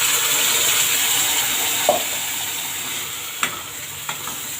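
Ground masala paste sautéing in a pan for katachi aamti, a steady close sizzle with a few sharp clicks of a spoon against the pan, no voices.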